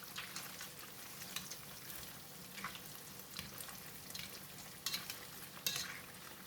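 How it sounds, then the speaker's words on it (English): Tofu frying in oil in a pan gives a faint, steady crackling sizzle, broken by occasional sharper pops and light clinks. "Fry the tofu for 2 minutes or until golden brown at the bottom"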